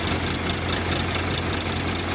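An Indofarm tractor engine runs a thresher, a loud, close, steady mechanical drone with a fast regular firing pulse and no variation in speed.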